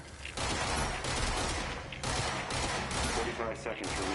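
Rapid gunfire in the video game Control, dense bursts of shots fired in quick succession, loud and close, with a voice faintly present underneath.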